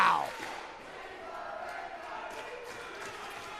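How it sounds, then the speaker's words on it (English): Crowd noise at an RWA wrestling event, a broad sustained roar from a live audience filling the room, steady and moderately loud after a brief sharper burst at the start. "RWA crowd giving it to these guys."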